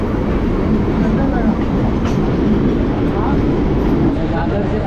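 Mumbai local train pulling into Byculla station, a steady loud rumble of wheels and carriage noise filling the whole stretch, with people talking over it inside the crowded coach.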